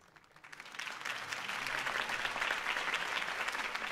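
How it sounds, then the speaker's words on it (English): A crowd breaks into applause that swells quickly and holds steady, dense clapping filling the space without any talk; crowd applause in the video game Telltale: Batman. "could have heard that applause"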